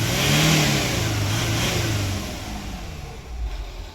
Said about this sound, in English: Healthy rev up.